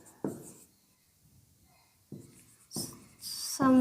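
Pen writing an example sentence on paper, a few short scratchy strokes separated by quiet gaps, close and moderately faint.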